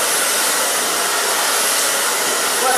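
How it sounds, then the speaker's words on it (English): A hair blow dryer runs at full strength while drying thick layered hair, giving off a loud, steady airy whoosh that continues without pause. "Grab the hair with your brush and just take the blow dryer, out with it"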